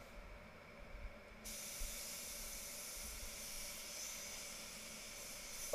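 A spray gun sprays paint onto a Mercedes Benz C200, its hiss starting after a second and holding as a steady, fairly quiet airy rush until the end, with no talking.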